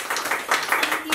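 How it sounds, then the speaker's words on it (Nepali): Audience clapping at a live Nepali dohori singing performance: a dense, steady patter of many hands that keeps an even level for its whole short span, close and fairly loud. "हामी पूर्णिमालाई जोरदार ताली बजाएर हामी"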